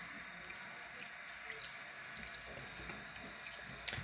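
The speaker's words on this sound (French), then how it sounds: "Du coup, je vais rincer un petit peu tout ça." Water runs steadily from a tap into a sink as something is rinsed, a continuous faint hiss with no talking.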